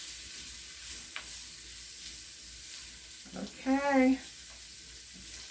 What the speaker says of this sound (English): let's get the spoon and let's stir it around